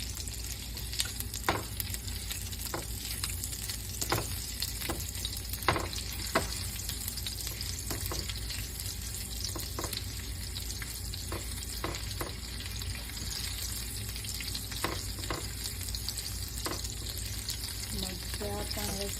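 Green chili chips frying in hot oil in a pan for a paneer masala, a steady dense sizzle throughout with scattered sharp crackles and pops, fairly close and continuous.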